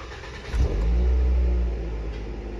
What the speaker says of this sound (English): Gonna go ahead and fire the vehicle up.